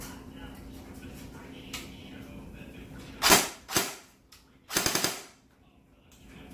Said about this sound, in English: Thing's shooting like a dream with the battery now at the top, with the quick pull.